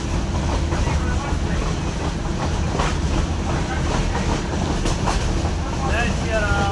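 A Gir forest train on the Chalala to Jamwala line rolls along the rails with a continuous, loud, close rumble and rhythmic clickety-clack, with wind buffeting the microphone.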